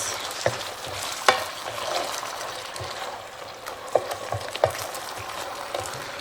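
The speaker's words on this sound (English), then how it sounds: "And I'm gonna stir fry it with the meat." Meat being stir-fried with tomato sauce for a cheeseburger potato casserole, with a steady close sizzle and scattered scraping clicks of a utensil against the pan, no voices.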